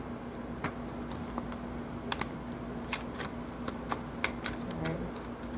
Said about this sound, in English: Let me give it a shuffle, y'all.